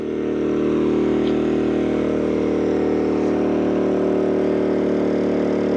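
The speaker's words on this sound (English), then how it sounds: "this has been a phenomenal little generator" A Champion 4000-watt dual fuel portable generator runs steadily, a loud, close, constant engine drone with an even hum and no change in pitch.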